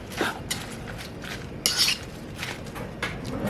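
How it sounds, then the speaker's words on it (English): Food stirred in a bowl with a utensil, giving a few scraping and clinking strokes against the dish at close range with short pauses between them. "I'm gonna mix that up."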